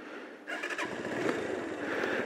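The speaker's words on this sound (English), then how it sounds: "first thing is to start the engine" A 2010 ZongShen Arizona 125 motorcycle engine cranks and catches at about half a second, then runs steadily at a close, loud idle with slight revving.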